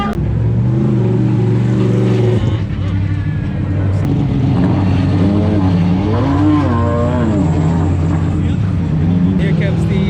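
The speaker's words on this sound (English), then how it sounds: "Here comes the GTD non-pro Mustang." A Ford Mustang GT3 race car in the GTD class at Daytona roars past, its engine note rising and falling with shifts under constant loud crowd and track noise, with someone talking over it.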